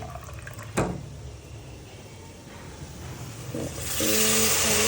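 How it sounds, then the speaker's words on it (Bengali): Water poured by hand into a pot of frying spices, a short knock early on, then a steady wash of pouring and sizzle that grows louder toward the end, close with no voices. "পানি দিয়ে দিব সামান্য পরিমাণে, একটু এক হাতে পানি দিচ্ছি"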